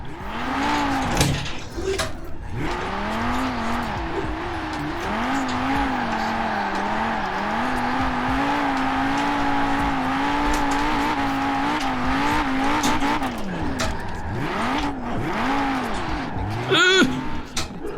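A 600-horsepower Audi RS2 engine whines and revs in Forza Horizon 4, pitch sweeping up and down as tires squeal through drifts, loud and continuous.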